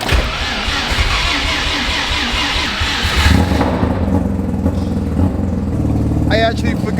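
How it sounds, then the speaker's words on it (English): A Mazda RX-7 running loud with its exhaust removed, a raw steady engine roar that shifts in tone partway through, with a voice briefly audible near the end. "I actually forgot we had to take the exhaust off for the diffuser. Sounds louder now anyways."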